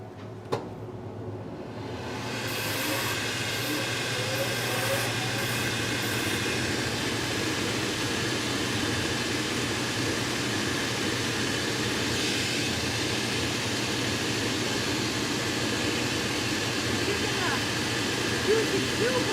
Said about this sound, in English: So we're going to go take it to the grinder. We're going to thin that out just a touch